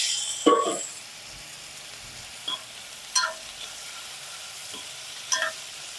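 Tomato pieces fry in a pan for chicken curry with a low, steady sizzle, broken by a few short clinks and scrapes from stirring.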